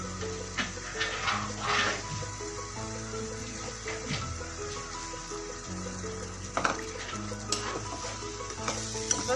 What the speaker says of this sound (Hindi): ये हमारा मसाला भुन जाएगा